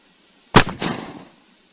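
A single pistol shot in the video game Unturned fires with a sharp, loud crack, followed by a short echoing tail that fades over about half a second, with no other sounds around it.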